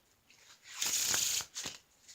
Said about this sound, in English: Let's try a Pharaoh shuffle here.